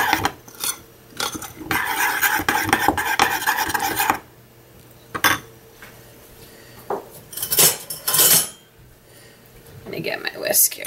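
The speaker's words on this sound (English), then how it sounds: "So we're going to stir this in, stir it all up." Caramel chai protein pancake batter is stirred in a bowl with a spoon, giving bursts of rough scraping and rubbing that alternate with quiet pauses and light clinks.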